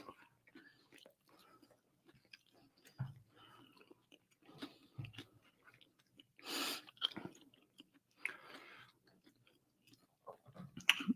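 People chewing meat close to the microphone, with soft wet mastication and occasional crunchy bites coming in scattered bursts, plus brief whispery voices between the bites.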